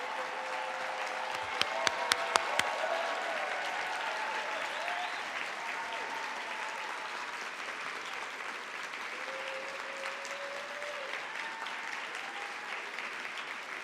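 An audience at a screening of the film Descendant applauds, a sustained wash of clapping with a few sharp claps near the start, and voices call out over it.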